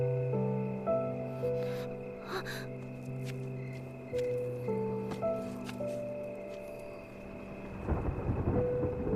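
Thunder rumbles as a storm builds before rain, a low rolling swell over a sustained musical score with a dense burst near the end.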